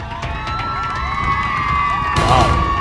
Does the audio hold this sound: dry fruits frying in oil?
no